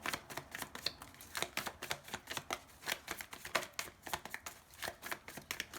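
Tarot cards shuffled by hand in a steady run of quick, crisp riffling bursts and soft slaps, close and fairly quiet, with no voices.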